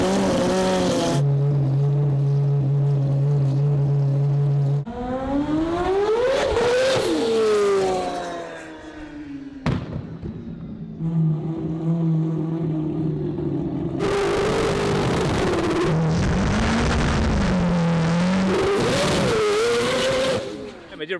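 A four-rotor rotary engine race car starting and revving hard, a loud continuous buzzing roar that climbs and falls in pitch through repeated revs, with a voice speaking over parts of it.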